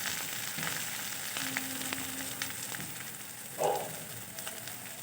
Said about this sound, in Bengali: পেঁয়াজটা আমি খুব ভালোভাবে ফ্রাই করে নেব